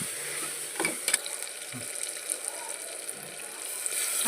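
Boiled potatoes stir-fried with garam masala, red chilli powder, turmeric and salt in a pan for Maharashtrian masala bhat: a soft, continuous sizzle broken by a few sharp scrapes and clacks of the spoon against the pan.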